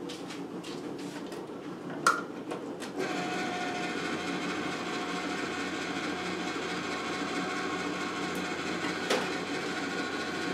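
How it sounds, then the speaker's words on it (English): An electric automatic can opener cuts around a can of garbanzo beans in a home kitchen, a steady mechanical whirr and grind running continuously after a few brief clicks and knocks at the start, close and moderately loud with no talk. "the automatic can opener servant is doing its job"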